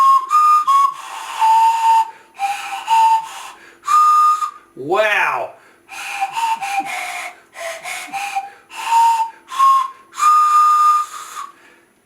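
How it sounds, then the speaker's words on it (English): A homemade pan pipe gives breathy, whistling tones in short bursts and held notes, close and fairly loud, with one sliding wavering note midway and a brief exclaimed word among them. "There is your pan pipe or pan flute."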